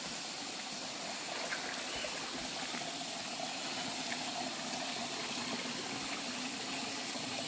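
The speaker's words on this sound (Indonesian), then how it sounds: "Kita sudah ada di tepi sungai." A large river runs in a steady, broad rush of flowing water at its bank, continuous and even throughout with no talk.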